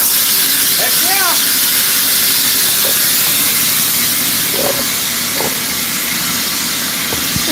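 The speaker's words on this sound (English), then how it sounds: "I'm gonna wait for that air compressor to kick off and I'll talk to you" An air compressor runs in a workshop as a loud, continuous hiss with a steady mechanical drone underneath, broken by a few brief clanks and squeaks.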